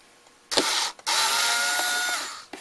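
Phillips head screws being backed out of the big plastic rear shield on an Arcade1Up Centipede cabinet, a close, steady whirring driver run of about two seconds after a short burst, with no talking.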